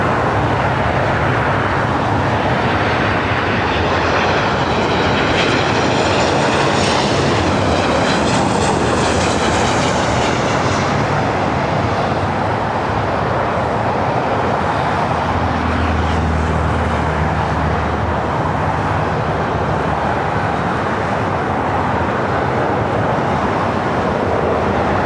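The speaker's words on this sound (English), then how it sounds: "Got another United 737 next arrival." A United Boeing 737 airliner arrives at LAX, its broad jet roar loud and steady throughout, with a rising whine early on and a low rumble settling later, no voices.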